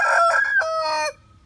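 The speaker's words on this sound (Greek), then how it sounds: "Εννοείται είμαστε εδώ με τον κόκορα στο κοτέτσι του." A rooster crows in its coop, one full cock-a-doodle-doo call with several rising and falling segments, loud and close, ending abruptly into quiet.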